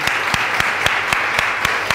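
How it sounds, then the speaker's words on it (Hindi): Church congregation clapping together at a Hindi-language sermon, about eight sharp, evenly spaced claps in two seconds, fairly loud and close, with no talking over them. "तो अपने होने के लिए एक ताली हो जाए,"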